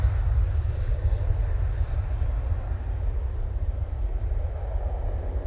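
A Cathay Pacific airliner departing Manchester Airport gives a steady, loud, deep jet engine roar that holds evenly from start to end with no voices.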